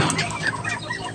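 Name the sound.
chickens clucking at feeding time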